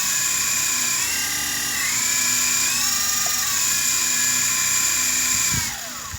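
A small radio-controlled helicopter in flight, its rotor and motor giving a steady, loud high-pitched whir with shifting tones that holds for several seconds before easing off near the end.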